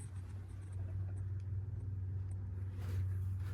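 An old Turnbull elevator machine with a paddle-and-carbon setup runs with a steady low hum and rumble, close by and without speech.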